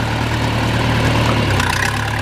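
A farm tractor engine idles close by in a steady, loud low rumble with a rough, even throb and no speech, on a cattle-feeding farm.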